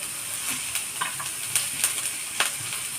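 Onion, coconut, garlic and ginger roast in a little oil for a spicy patwadi rassa masala, a steady sizzle broken by repeated scraping stir strokes.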